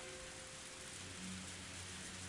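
Rain in the video game Higurashi When They Cry, a faint, even hiss of falling rain with a low steady hum underneath and no other sounds.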